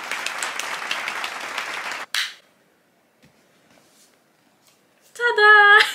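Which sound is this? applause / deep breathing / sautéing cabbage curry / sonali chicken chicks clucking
applause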